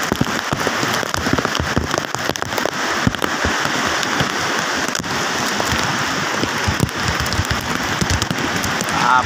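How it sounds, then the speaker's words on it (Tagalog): Heavy rain pours steadily during a deep flood, a dense continuous hiss with sharp drops and splashes crackling throughout; no voices. "Lakas ang ulan po eh."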